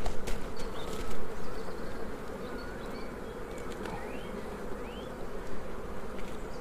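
Dense, steady buzzing of many honey bees close by at an open Welsh hive in spring, a continuous hum with a few higher whines drifting over it.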